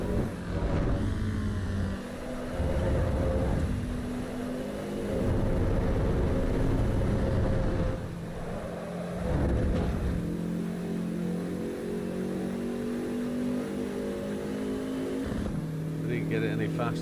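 Race car engine in the Assetto Corsa Evo racing game, revving and shifting through corners in a time trial, steady and loud throughout with someone talking over it.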